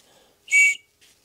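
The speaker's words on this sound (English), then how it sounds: "We have our rape whistle here." A safety whistle from a 1970s REI wilderness survival kit gives one short, sharp, shrill blast, close and loud, then a faint brief echo of it.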